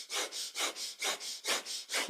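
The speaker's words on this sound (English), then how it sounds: "Take a deep inhale, close the eyes." A person breathes through the nose in a rapid, rhythmic series of about eight even breaths during a kundalini yoga kriya. The breaths are close and moderately loud, with no voice over them.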